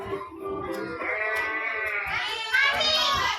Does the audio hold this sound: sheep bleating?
yes